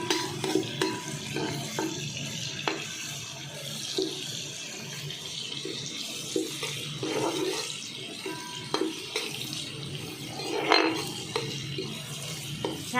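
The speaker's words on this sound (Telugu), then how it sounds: "ఆయిల్ కొంచెం వేడైనాక సన్నగా కట్ చేసి పెట్టుకున్న ఉల్లిపాయలు కొంచెం మగ్గే వరకు అటు ఇటు కలుపుతూ ఉండాలి" Thinly sliced onions sizzle softly in hot oil in a home kitchen while a spoon stirs them back and forth, giving a steady faint frying hiss broken by scraping and clinking against the pan.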